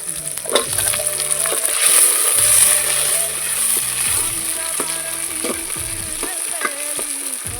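Tomatoes frying in a pan on a wood-fired stove for prawn kulambu, a loud continuous sizzle with crackling pops and scraping stirs close by, no talking.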